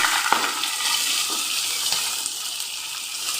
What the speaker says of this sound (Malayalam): ഇഞ്ചി വെളുത്തുള്ളി ഇനി നമ്മൾ അരിഞ്ഞെടുത്ത എല്ലാ വെജിറ്റബിൾസും കൂടെ നമുക്കത് ചേർത്ത് കൊടുക്കാം